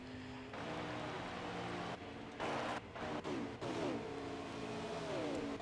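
Wolfpack 88 Javelin race car driving out of pit road, engine revving and shifting in rising, falling pitch sweeps over a steady background of other cars, fairly faint and distant.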